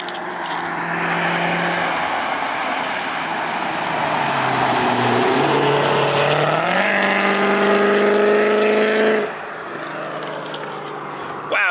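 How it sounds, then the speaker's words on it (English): A V8 sports car roars along a road with the engine revving and rising in pitch, loud and close, then drops away sharply near the end. "Such a glorious V8 noise."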